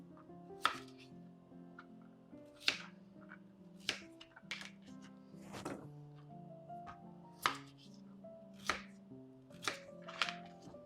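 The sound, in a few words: chopping vegetables quickly for cooking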